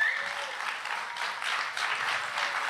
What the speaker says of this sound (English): a huge round of applause for everyone at Brick